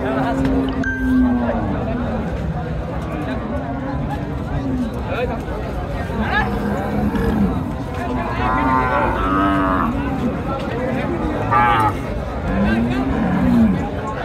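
Cattle at a crowded livestock market in Naogaon low and moo repeatedly, some calls near and loud and others further off, with people talking and murmuring all around.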